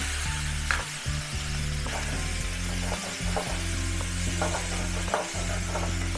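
Chopped onions sauté in hot oil with mustard seeds and lentils, giving a loud, close, steady sizzle with occasional stirring scrapes over a low background hum.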